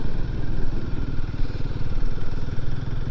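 Motorcycle engine running steadily during a long highway ride, a continuous close-up drone with a rumbling low pulse and wind noise, no talk.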